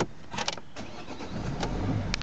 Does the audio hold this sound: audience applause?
no